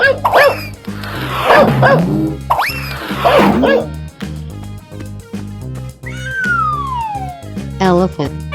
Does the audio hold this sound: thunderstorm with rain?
no